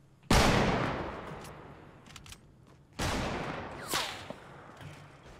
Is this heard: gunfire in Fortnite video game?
yes